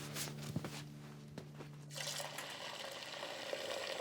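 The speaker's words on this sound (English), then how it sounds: "I'll fill up your water bowl" Tap water runs into a dog's water bowl indoors, a steady close trickle and splash filling the bowl over several seconds, with a few clinks and drips at the start.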